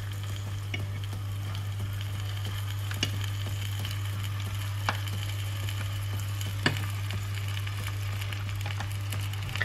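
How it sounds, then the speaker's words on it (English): Chicken pieces fry in oil in a pan, giving a steady soft sizzle with a few small crackles and pops close by, under a constant low hum, with no talking. "we're gonna add the pieces of chicken"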